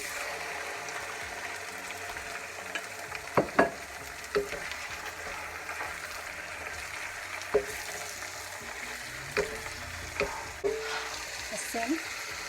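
Squid frying in a pan for Filipino squid in coconut milk, with a continuous hiss and crackle of sizzling oil and occasional utensil knocks and scrapes, close and steady.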